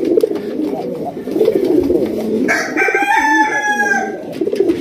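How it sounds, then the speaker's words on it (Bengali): A male pigeon at a Bangladeshi pigeon farm coos in soft, low rolling calls, followed by a brighter rising call partway through, close and fairly loud with a faint murmur of other birds behind. "নর কবুতর মাশাআল্লাহ"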